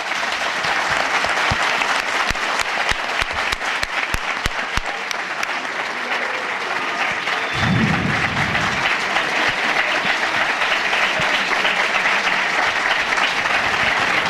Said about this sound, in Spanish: voy a pedir a todo el auditorio, ahora sí, un aplauso para don Fernando Vargas